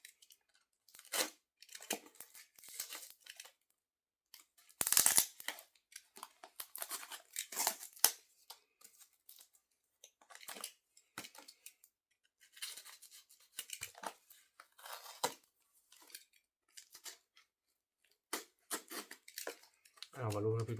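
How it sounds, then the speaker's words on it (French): A small package holding a vinyl single being cut and torn open, with scattered crinkling, scraping and ripping bursts close to the mic and quiet gaps between them, plus a brief low thump at the end. "Alors on va ouvrir ce petit paquet pour le 45 tours"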